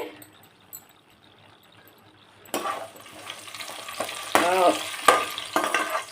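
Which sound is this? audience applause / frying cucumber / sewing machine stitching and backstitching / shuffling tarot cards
frying cucumber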